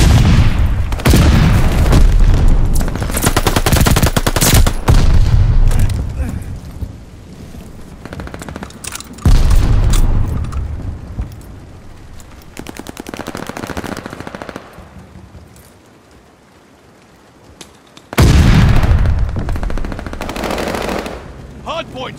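Video game gunfire sounds as loud, sustained automatic bursts with heavy booms. The shooting breaks off into quieter gaps, then a fresh burst of fire comes in near the end, with faint voices now and then.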